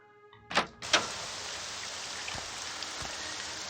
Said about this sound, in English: It rains.